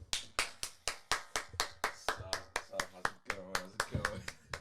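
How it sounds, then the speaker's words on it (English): One person claps alone with a steady run of sharp, close hand claps, roughly three per second, while a voice speaks underneath toward the end. "I'm the only one clapping"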